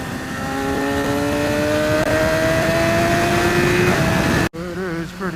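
A 2014 BMW S1000RR motorcycle pulls hard, its engine note climbing steadily in pitch over rushing wind noise for several seconds before cutting off abruptly. A short, quieter tail follows.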